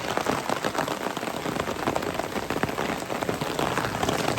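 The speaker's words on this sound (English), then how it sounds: "Lightning and rain." Steady rain pours down outdoors in Verona, Italy, during a storm, a dense even hiss of drops striking surfaces close by for the whole stretch, with no distinct thunderclap standing out.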